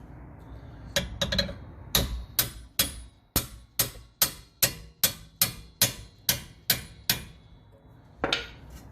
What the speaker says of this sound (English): Yeah, need a hammer.